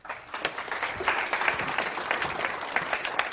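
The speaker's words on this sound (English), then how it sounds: "Give him a round of applause." An audience applauds a volunteer coming up on stage at a hypnosis seminar, a steady, dense round of clapping from a room full of people, moderately loud and sustained throughout.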